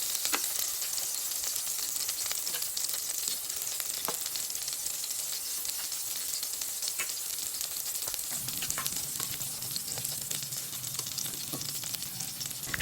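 Eggplant and egg frying in a pan give a steady, even sizzle and crackle that carries on without a break for the whole stretch, with no talking.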